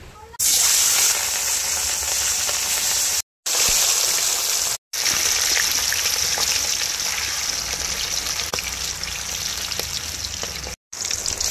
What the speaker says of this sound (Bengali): তেলে ধোঁয়া উঠতে শুরু করে দিয়েছে, লবণ হলুদ মাখানো ইলিশ মাছগুলি ভেজে নেব।